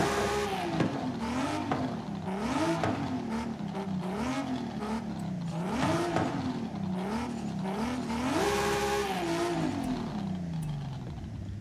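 Turbocharged modified stock car engine in Forza Horizon 5 revving repeatedly, its pitch climbing and falling in a steady rhythm of throttle blips, loud and continuous with no talk over it.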